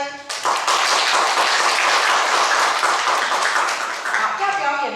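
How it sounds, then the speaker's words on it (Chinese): Warm audience applause greets a young recital performer, a dense, sustained burst of crowd clapping lasting several seconds, with a voice briefly heard near the start. "我们给予热烈的掌声。"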